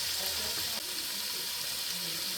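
Quartered mushrooms sweat in a hot pan for beef stew, giving a steady, fairly close sizzle and frying hiss that runs unbroken throughout.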